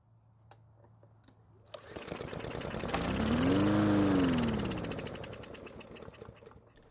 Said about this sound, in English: the engine started and it sounds great, no strange noises or wild shaking